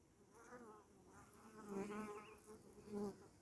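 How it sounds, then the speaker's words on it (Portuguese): A populous swarm of bees buzzing at a nest in a hole in the ground, a steady close insect drone with swelling louder passes, no talking. "Tem muita abelha. Enxame muito populoso."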